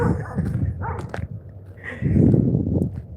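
A puppy outdoors at sunset whimpers and yips in short, plaintive cries, fairly close, in strong wind, with a brief pause before a longer whine.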